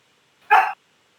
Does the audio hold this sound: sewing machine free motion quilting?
no